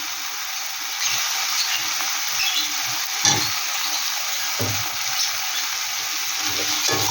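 Bhetki fish-bone chorchori masala sizzles steadily in oil as two potatoes go in, with a few scraping stirs and soft clatters over the continuous frying hiss; no one speaks.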